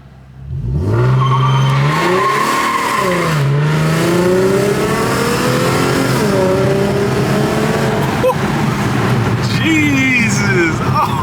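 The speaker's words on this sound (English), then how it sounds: "So I'm gonna do one more pull." An Infiniti Q50 3.7 with a VR30 transmission swap accelerates hard in a pull, heard loud from inside the car. The engine note climbs, drops at quick gear shifts and climbs again, sustained for over ten seconds.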